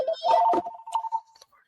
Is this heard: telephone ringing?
yes